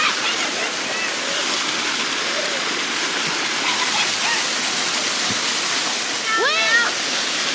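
A waterfall roars steadily and loudly throughout, a dense, constant rush of falling water close by, with occasional faint voices or calls mixed in near the end.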